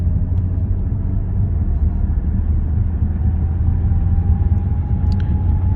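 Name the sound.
2022 BMW M440i Gran Coupe driving on highway at 70 mph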